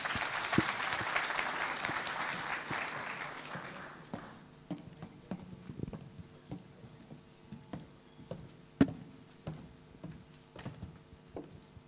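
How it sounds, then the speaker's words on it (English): An audience at an ICT summit applauds as a speaker is welcomed on stage, a full burst of clapping that thins out into scattered, fading claps. "Please, let's give him a round of applause as we welcome him on stage."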